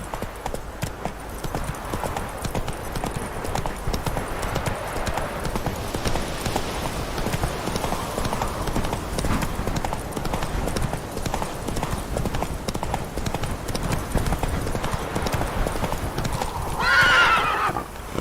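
Galloping horse hooves pounding steadily through a horse race in the Witcher 3 video game, a continuous close rhythmic clatter with a brief whinny near the end.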